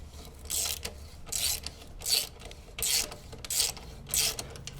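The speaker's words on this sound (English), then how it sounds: "And then we slide the bolt back through where it went before." Metal bolt sliding through the centerstand mount while fitting an Outback Motortek centerstand to a Husqvarna Norden 901 motorcycle, heard as five or six close, scraping metallic rasps in a steady rhythm with no talk.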